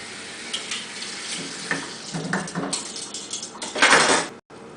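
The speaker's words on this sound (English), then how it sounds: "But for at home, what you can do is run under cold water a little bit." Cold tap water runs over vegetables being rinsed in a kitchen sink, a close splashing stream that shifts as the produce is moved, with small clatters and a brief stop near the end.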